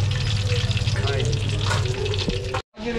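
Pork belly frying over low heat, a steady close sizzle and crackle with faint stirring and watery clatter, cut by a brief silent gap near the end.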